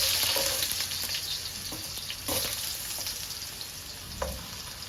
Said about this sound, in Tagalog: painit na natin yung wok, prito muna tayo. Yung matitigas muna. Patatas.